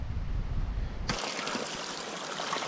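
Thin stream of water trickling from an underground spring in the Carpathian mountains, a faint continuous close-up babble and dribble that shifts abruptly to a brighter, hissier splashing partway through, with no talking.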